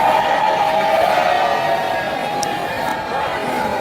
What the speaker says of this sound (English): the students are rejoicing, they are cheering after taking photo with the president